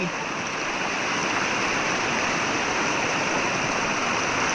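Loud, steady rush of a strongly flowing river, a dense continuous roar with no breaks, close by.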